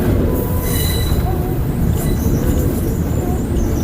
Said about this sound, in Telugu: మళ్ళీ టర్నింగ్ తీసుకోండి ట్రైన్.